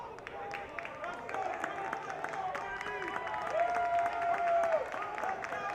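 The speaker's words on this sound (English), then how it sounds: "Robert Morris bench now beginning to cheer here." A baseball team's bench cheers during a college tournament game, a broad crowd-like wash of shouts and clapping running steadily throughout, swelling slightly near the end, with a sustained whistle-like tone partway through.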